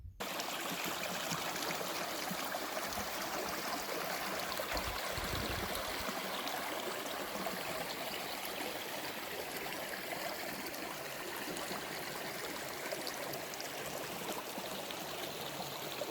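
Trout Creek runs as a steady broadband rush of flowing water in a forest setting, loud and close, unbroken for the whole stretch with no voices.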